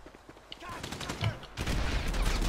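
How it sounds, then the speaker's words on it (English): Gunfire in a multiplayer shooter video game crackles in a fast, dense volley, growing louder and more continuous partway through, with a player's voice faintly underneath. "where is that shooting from?"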